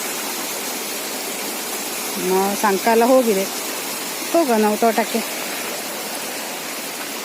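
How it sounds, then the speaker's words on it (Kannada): Muddy red water rushes steadily like a flowing stream along a channel beside a plantation, with someone speaking briefly over it in the middle. "ನೋಡಿ, ಈ ದಾರಿಯಲ್ಲೇ ನೀರು ಹೋಗ್ತಾ ಉಂಟು"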